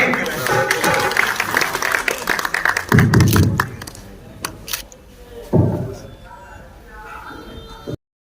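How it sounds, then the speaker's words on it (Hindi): A standing audience at a Hisar district gathering claps in welcome for an arriving official, with bursts of applause and a few thumps and shuffles as people rise, while a voice talks through it. "सभी लोग खड़े होकर तालियों के साथ हार्दिक अभिनंदन करें, स्वागत करें।"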